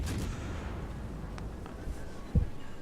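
Naval guns of a Fiji light cruiser fire armor-piercing shells in World of Warships, a few booming reports over a low rumbling background, with one sharp, close blast near the end.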